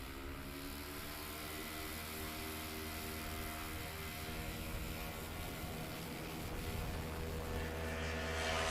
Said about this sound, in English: That takeoff for Dave Curley, 104.